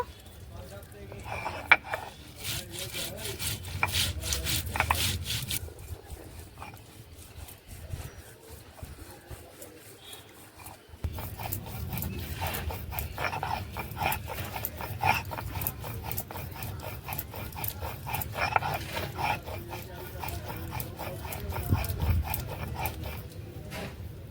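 Coriander and cumin are ground together on a grinding stone, making close, rhythmic scraping strokes. The grinding pauses briefly partway through, then resumes just as busily.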